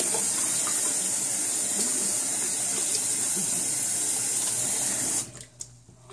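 Water from a bathroom tap runs steadily as shaving gear is rinsed in the sink, a continuous rushing stream that stops abruptly near the end, leaving quieter room sound.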